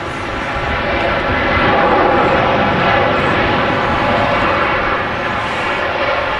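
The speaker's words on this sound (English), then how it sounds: "An amazing sound there from the Air Canada 330." Air Canada Airbus A330 engines roaring at takeoff from Manchester Airport, a loud, steady, broadband roar that swells slightly midway and holds throughout, with no talk over it.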